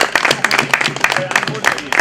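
Audience applause at an annual day celebration as a design is unfolded on stage, a lively mix of many hands clapping with cheering and voices mixed in, close and fairly loud.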